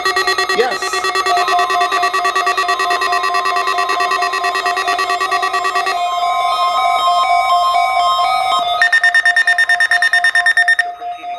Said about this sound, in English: The proceeding was a test of the National Weather Service warning alarm tone.